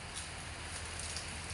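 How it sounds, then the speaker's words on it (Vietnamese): Steady rain falls on a cold day in a Vietnamese setting, a soft continuous hiss and patter with low rumble underneath, even and unbroken throughout. "Trời mưa mà lạnh lạnh"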